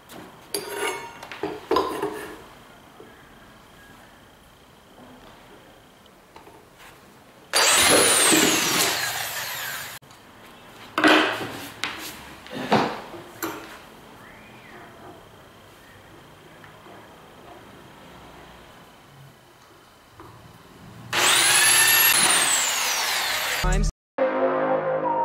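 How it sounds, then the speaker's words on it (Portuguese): Two bursts of a power drill whir loudly while drilling a car subwoofer box, separated by quieter handling clatter and brief voices. "Então eu vou estar furando aqui"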